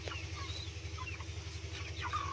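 Pigeons of the Sirazi and native breeds in a loft give faint, soft calls and short chirps over a steady low electrical hum, quiet and scattered across a brief moment.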